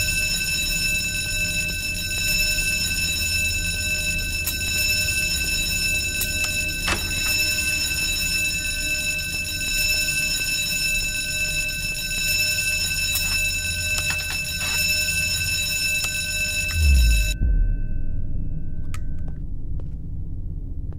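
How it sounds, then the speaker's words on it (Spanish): A loud, continuous electronic alarm rings nonstop inside a horror video game school map, a harsh sustained ringing that cuts off abruptly near the end, followed by a low thud. "¿Y dónde se calla la alarma esta?"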